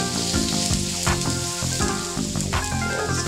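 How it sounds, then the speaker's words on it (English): Sesame-seeded teriyaki beef sizzling on a grill while being stirred, an even frying hiss under music with a steady beat, caramelizing glaze crackling throughout. "I'm going to stir on the grill."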